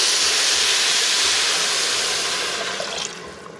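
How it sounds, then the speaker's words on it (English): Water poured into a pan of rice lightly toasted in hot oil, cooking for a Mexican pork dish, throws up a loud, steady sizzling hiss that fades slightly toward the end, heard alone. "Once you've slightly toasted your rice, you're gonna add your water."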